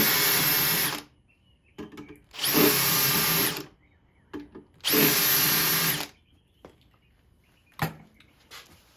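Three bursts of a power drill with a 3/32 bit whirring at high speed, drilling pilot holes in wood, each about a second long, separated by quiet moments with small clicks and handling noises.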